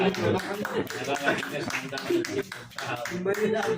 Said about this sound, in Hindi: इसलिए जोरदार ताली अभी तक बज रही है